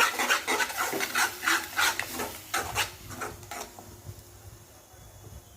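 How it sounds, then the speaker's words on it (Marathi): Tomato paste frying with spices in a pan for a chickpea and potato curry, with rhythmic rasping scrapes of a spoon stirring against the pan, repeated strokes that slow and fade to a quieter sizzle. "तेल सुटेपर्यंत आपल्याला ही पेस्ट छानपैकी भाजून घ्यायची आहे"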